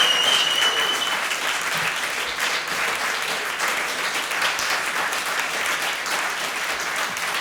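Sustained applause from a live concert audience for a musician, dense and steady clapping at an even level throughout with no talk over it.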